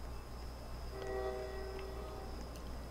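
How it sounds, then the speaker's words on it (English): A train in the Roblox video game sounds a short horn blast over a constant low rumble of rolling wheels, the horn fairly faint and lasting about a second, with no voices. "It's a train."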